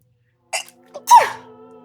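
A single person sneezes close and clear in a quiet room, with a short breathy intake, a brief catch, then a sharp voiced burst that trails off into faint background tone.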